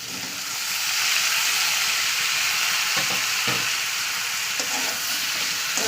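Bitter gourd and potatoes sizzle loudly in a pan over a high flame, a constant hissing fry broken by a few scraping stirs of a spatula, close up with no talking.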